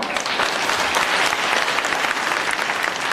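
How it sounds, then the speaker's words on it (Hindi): Steady applause from a gathered congregation at a Hindu temple satsang in Ramnagar, dense continuous clapping that stays loud and even from start to finish. "उनके लिए तालियां जाओ"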